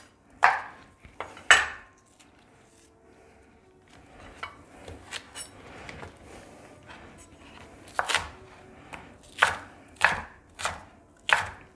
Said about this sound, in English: We'll cut that. Put some fresh ginger.